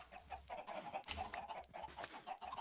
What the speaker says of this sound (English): I'm killing a bunch of chickens